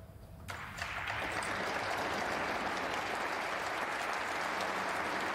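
A snooker match crowd at the German Masters in Berlin breaks into applause after a short quiet moment, then sustains loud, dense clapping throughout.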